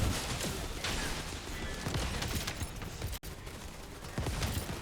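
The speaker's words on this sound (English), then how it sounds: "Frickin' flak cannon." Flak cannon fire in The First Descendant, a dense rapid barrage of loud blasts and crashes that runs continuously with a brief dropout near the end.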